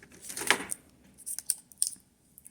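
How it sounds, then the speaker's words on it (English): Close snips of scissors cutting open a package at a desk, a few sharp clicks and rustles spaced out over a couple of seconds, with no talking. "got some scissors because I'm at my desk. Let's cut this open."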